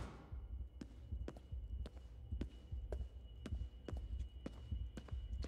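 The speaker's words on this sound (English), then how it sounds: "hear my heartbeat." Heartbeat in a horror video game: regular thumping pulses, roughly two per second, low and muffled over a quiet humming ambience, with no voices.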